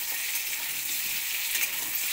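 Potato and pumpkin frying together in a pan, a steady, even hiss of sizzling oil close up with no talk.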